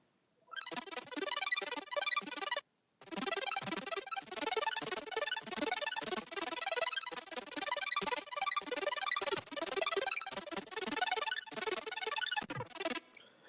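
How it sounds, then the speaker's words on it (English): An arpeggiated super saw synth patch races through rapid, bright, dense note sequences, loud and continuous apart from one brief gap near the start. "this massive patch here, which is just a super saw that's arpeggiated"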